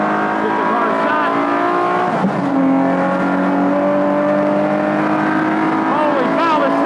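Modified car on a racing track accelerating hard, a loud continuous engine note with rising and falling pitch sweeps, a brief tire squeal near the middle, speech mixed in over the engine.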